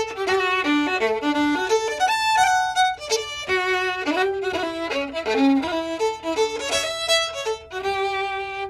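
A lone fiddle plays a lively, ornamented tune in Maritimes style with quick bowed notes and double stops, close and full, no voices.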